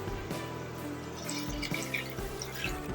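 Water trickles and drips into a pot of Korean instant ramen noodles cooking with fried vegetables, soft liquid splashes and drips heard close over a steady background hum.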